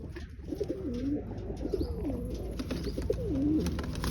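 Pigeons coo repeatedly in low, rolling calls at close range, including a black Chinese pigeon in a pen of breeding pairs offered for sale, with no talk over them.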